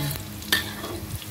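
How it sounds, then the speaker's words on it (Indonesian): Frying and stirring in a pan of oil left from frying tempeh, as ingredients are sautéed for stir-fried eggplant; steady close sizzle with a sharp scrape of utensil near the middle, no talk. "Kita guna juga minyak ni untuk menumis bahan-bahan tadi."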